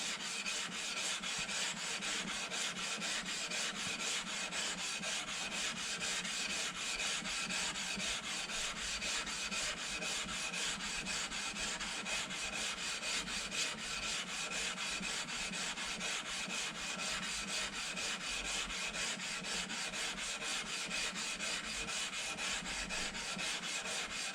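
A Record 80 cabinet scraper works across wood in rapid, unbroken rhythmic strokes, a dense close rasping scrape held at constant loudness throughout.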